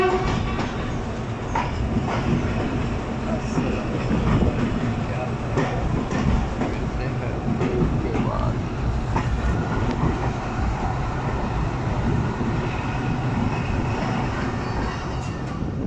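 A passenger train runs on the Lahore to Narowal line in foggy weather, its wheels clattering in a steady clickety-clack over the rails for a long stretch, with a loud continuous rumble and occasional faint voices inside the carriage.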